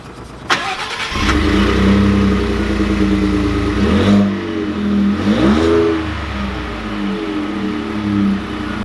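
A 2020 Ford F-150 STX with the 2.7-liter V6 starts and pulls away, its engine note rising and falling through several throttle swells and gear changes, steady and close with no talking.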